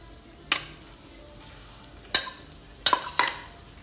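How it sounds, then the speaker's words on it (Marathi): Smashed potato with spices stirred in a pan for a street-style vada pav filling: a few sharp, separate scraping clacks of a spoon against the pan over a quiet background. "यामध्ये जो आपण स्मॅश केलेला बटाटा आहे तो मिक्स करूयात"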